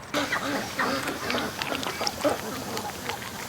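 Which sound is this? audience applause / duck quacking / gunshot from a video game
duck quacking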